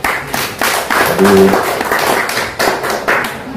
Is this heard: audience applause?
yes